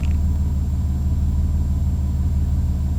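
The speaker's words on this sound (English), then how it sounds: "we've loosened up the catalytic converter from the exhaust manifold, and you can hear the car is a little louder" Car engine running with its catalytic converter loosened from the exhaust manifold, a steady close low rumble with a slightly louder, raw exhaust note and no talk over it.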